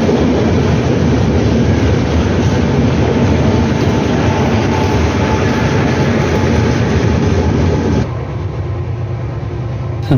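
Inside a moving Indian superfast express train, a loud, steady rumble of wheels and carriage fills the space without a break, easing slightly quieter for the last couple of seconds.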